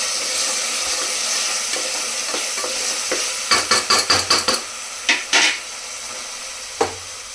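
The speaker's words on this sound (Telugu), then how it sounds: "అల్లం వెల్లుల్లిపాయ పేస్ట్ కూడా మంచిగా ఫ్రై అయిపోయింది." Ginger garlic paste being fried in a pan for mutton curry: a soft, continuous sizzle under a quick burst of spoon-scraping strokes against the pan, then a few scattered louder clinks.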